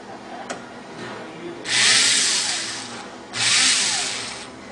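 A power drill drives a screw into a part of an HP 2600, in two strong whirring bursts of about a second each, with a short pause between and quieter handling noise before.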